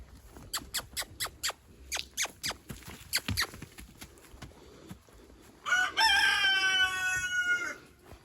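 A run of short, sharp chicken clucks and taps in a chicken coop, then a loud, close rooster crow rising near the end with no talking.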